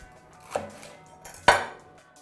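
A knife halving and seeding poblano and jalapeño peppers on a cutting board: two distinct, close knocks of the blade against the board, about a second apart, with no talk.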